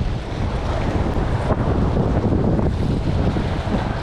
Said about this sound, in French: Un sacré vent là, ça va être emmerdant pour la vidéo.